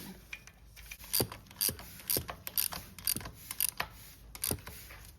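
A ratchet tightening the carburetor bolts on a 110cc dirt bike, rapid rhythmic clicking in short bursts, close and moderately quiet, with no voices.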